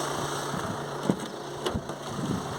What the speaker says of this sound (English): I'll go and start the car again.